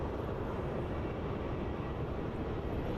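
A plane taking off on the runway at Melbourne Airport, heard as a steady, broad engine roar that holds at an even loudness with no voices.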